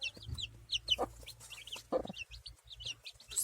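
Hens and young chicks in a coop cluck and cheep close by, with rapid high peeps over low repeated clucks in an irregular, busy pattern and no talk.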